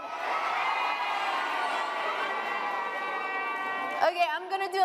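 A group of children gathered for a photo at a Laura Bush book club event shout and cheer together in a bright, drawn-out chorus, then break off into a few sharp separate shouts at the end.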